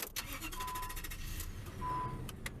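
A car engine idles steadily with the hood popped open, a low, even rumble running throughout with a couple of faint high tones over it and no talk.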